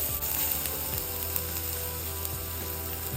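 Chopped green chillies sizzle steadily in hot oil, with chopped garlic already in the pan, a loud, even crackling hiss with small pops and no voices.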